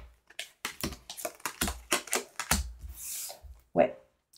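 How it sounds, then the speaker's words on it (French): Tarot cards slapped and slid onto a table in a quick run of sharp, dry flicks and taps, close and fairly quiet, with a brief pause near the end and no talk. "Allez, on pose les cartes."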